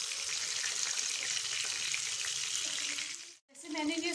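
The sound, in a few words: chicken mince burger patties frying in oil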